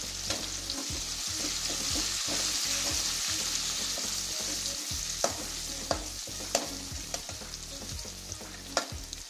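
Curry leaves fry in hot oil for a Chettinad-style crab gravy, a steady sizzle broken by repeated scraping taps of a spoon stirring the pan, close and fairly quiet with no talking.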